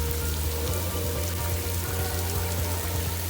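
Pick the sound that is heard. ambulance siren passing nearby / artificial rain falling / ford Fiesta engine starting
artificial rain falling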